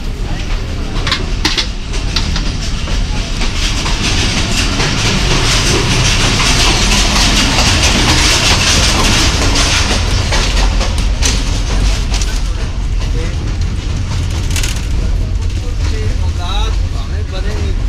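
Kohat Express 134DN passenger train travelling from Kohat Cantonment toward Rawalpindi, a steady loud rumble of the moving train heard from inside, with continuous rattling and faint voices in the background.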